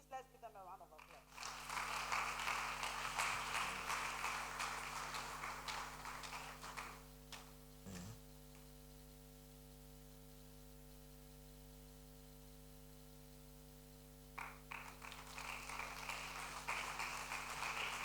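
Audience applause greets a steering committee joining the stage at a women in sustainability event, a broad wash of clapping that fades under a steady electrical hum, then swells again near the end.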